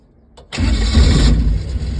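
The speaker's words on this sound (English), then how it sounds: "It fires right up when it's warm." A warm Datsun car engine starts: a brief crank click, then it catches abruptly and settles into a loud, steady idle close by, with no talk.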